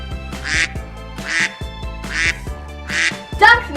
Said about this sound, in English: Ducks make the sound quack.